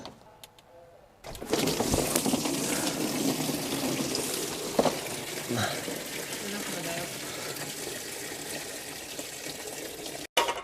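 Coolant pours from a Jeep's lower radiator hose after it is pulled, a continuous gushing splash that starts abruptly after a quiet moment and runs steadily to the end, with someone speaking over it.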